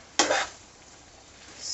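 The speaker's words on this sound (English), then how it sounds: "Now you want to give it another quick stir" A single quick stir of yam stir fry in a pan, one short scrape of a utensil against the cookware followed by near quiet.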